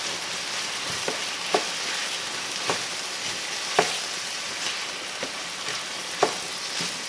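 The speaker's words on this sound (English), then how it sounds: "So I'm adding 1 onion to everything. And now we mix this completely through." Onion being stirred into a sizzling frying pan, a steady close crackle of frying broken by several sharp scraping knocks of the utensil against the pan at irregular intervals.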